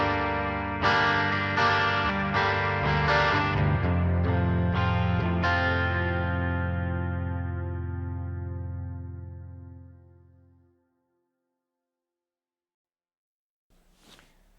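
Electric guitar run through a Nano Cortex amp modeler with chorus and distortion effects, playing a burst of chords that ring and slowly decay to silence, followed by a faint brief noise at the end.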